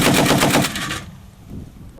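A rapid burst of automatic rifle fire at a training exercise, about a dozen quick shots in a tight rhythm, then a brief echoing tail.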